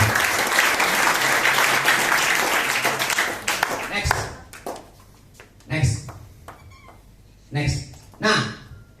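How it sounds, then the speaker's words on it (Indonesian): An audience at an Indonesian sales agents' seminar applauds loudly for about four seconds, then the clapping stops and a few short voice bursts and noises follow. "Tepuk tangan buat kita."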